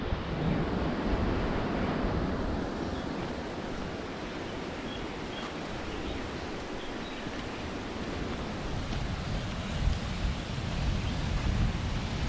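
Surf rolls in steadily at Kanagiram beach on the pebbly Goa coast, a dense, continuous wash of breaking waves mixed with wind rumble on the microphone, fairly loud and unbroken throughout.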